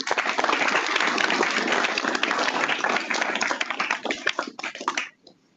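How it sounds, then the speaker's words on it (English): A room full of people applauds at a special tutorial session, a dense burst of clapping that thins into scattered claps near the end before stopping abruptly into quiet. "Let's give one more round of applause for Chandra."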